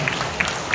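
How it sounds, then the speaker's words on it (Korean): Audience applause at a church concert in Yeongjong Cathedral, a brief steady patter of clapping from a crowd. "다시 한번 우리 시민들에게 박수 부탁드립니다."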